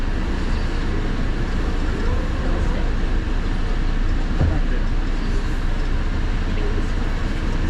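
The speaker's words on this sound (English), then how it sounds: "This is the Howard Beach train" AirTrain JFK riding out from Howard Beach station, heard from inside the car as a continuous loud rumble and rail roar with steady low-end drone, unbroken throughout.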